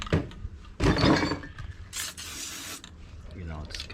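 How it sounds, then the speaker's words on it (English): A short burst of cavity wax sprays from an aerosol can while detailing the undercarriage of a 1970 Plymouth Fury III, a close hiss followed by a second spray, with rattling handling noises between bursts. "you can spray this and it'll work its way into the nooks and crannies and crevasses"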